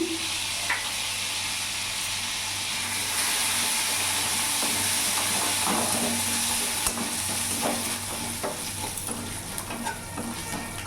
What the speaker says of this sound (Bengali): ওই তেলের মধ্যেই এখানে আমি কালো জিরে ফোড়ন দিয়ে দিলাম